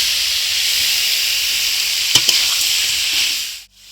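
Prawns dropped into a hot frying pan with potatoes and jackfruit seeds, a loud continuous sizzle and hiss with a couple of brief clatters, ending abruptly.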